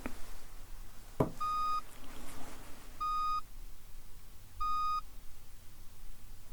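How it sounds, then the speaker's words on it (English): Three short electronic beeps, evenly spaced about a second and a half apart, sound clearly over quiet background noise after a brief click. "How many beeps was that?"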